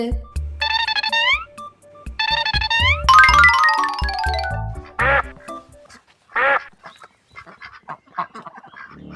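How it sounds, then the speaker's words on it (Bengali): Cartoon ducks quack loudly in rapid, honking bursts, several calls stacked close together near the start, then fewer scattered quacks and softer noises toward the end. "কিরে হাঁসগুলো এমন ডাকাডাকি করছে কেন"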